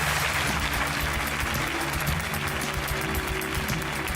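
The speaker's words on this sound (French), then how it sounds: "on vous applaudit très fort" Sustained applause from an audience, dense and steady clapping throughout, with a faint voice underneath.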